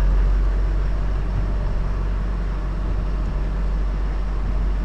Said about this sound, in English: it sounds so smooth. It sounds like a freaking brand new truck